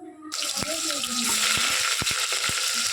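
Chopped onions go into hot oil in a pan for mutton curry, setting off a sudden loud, steady sizzle. Scrapes and taps of a stirring utensil sound close over the frying.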